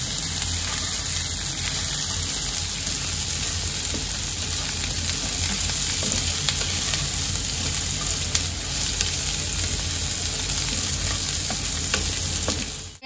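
Chopped ingredients for Khandeshi kanda poha sauté in hot oil, giving a loud, continuous sizzle with a few scraping stirs and a faint steady hum underneath, with no talk over it.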